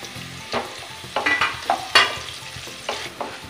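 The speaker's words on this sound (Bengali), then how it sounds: "এবার দিয়ে নেব পেঁয়াজ কুচি আর লঙ্কা কুচি। এটা একটু হালকা করে ভেজে নেব।" Chopped onion and green chilli frying in a pan after dried red chillies and bay leaf, for South Indian style semolina upma; a steady sizzle broken by several sharp scraping stirs of a spatula, close and clear with no talk.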